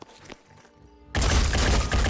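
Soldiers open fire in the tactical video game Phoenix Point, a sudden dense burst of gunfire erupting after a quiet stretch of faint game ambience and continuing loud and sustained to the end.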